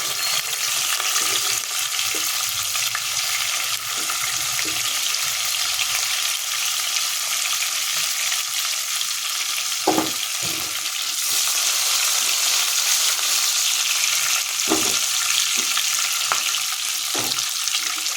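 Garlic and green chillies fry in hot oil in a pan, giving a steady, bright sizzle throughout. A few sharp scrapes and taps from a stirring utensil sound nearby, and no one speaks.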